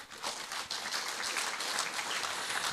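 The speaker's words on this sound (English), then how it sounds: "So this, I believe, you must applaud yourselves for." A school science fair audience applauds, dense steady clapping from many hands throughout, fairly close and even in loudness, with no speech over it.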